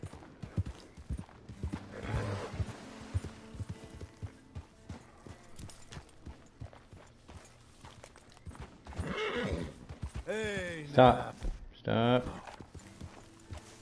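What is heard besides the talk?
horse neighing and hooves, video game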